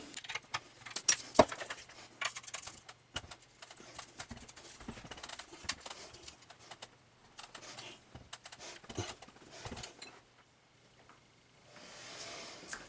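Bolts come out of the back of a treadmill with scattered metallic clinks, taps and scraping handling noises. The sounds are irregular and fairly close, with a quiet stretch near the end.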